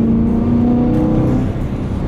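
A BMW E92 M3 drones with a deep, loud engine and intake note heard from close by, holding a steady pitch before settling slightly lower toward the end.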